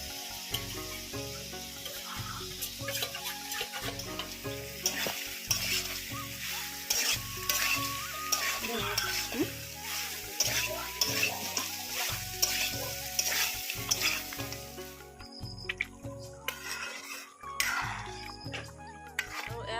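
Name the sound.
duck meat frying and being stirred in a pan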